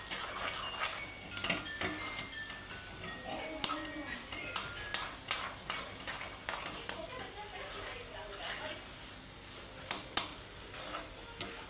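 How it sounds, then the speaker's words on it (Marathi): Thick gram flour batter for masvadi is beaten in a pot with repeated knocks and scrapes of a spoon against the metal, fairly quiet, while a person talks over it. "अशा प्रकारे घट्ट चांगलं पीठ हाटून घ्यायचं"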